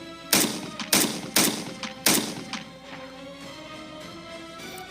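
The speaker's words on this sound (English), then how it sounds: "But repeated loud bangs are much more likely to be gunfire." Four sharp, loud gunshots ring out in quick succession, each followed by a brief echoing tail, then a quieter stretch.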